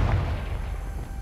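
The Confringo fire spell explodes in Hogwarts Legacy with a deep, rumbling boom that rolls on and slowly dies away, heard alone.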